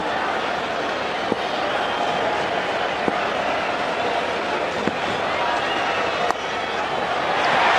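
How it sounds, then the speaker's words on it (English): Capacity cricket crowd at the Wanderers roars in a sustained, loud cheer that fills the stadium, with a few sharp knocks cutting through and commentary voices under the noise. "Loud cheer again from the capacity crowd of the Wanderers"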